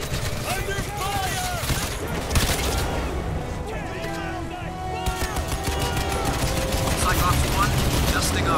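Heavy gunfire in the shooter Crysis 2 Remastered, repeated bursts of automatic shots and explosions echoing through a chaotic battle, with radio chatter and game voices speaking over the fight.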